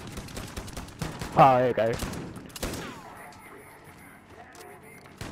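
Gunfire in Call of Duty Warzone, sharp cracks and short bursts scattered among game noise, with a voice talking briefly and a loud blast standing out near the middle.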